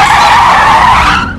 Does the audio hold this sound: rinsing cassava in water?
no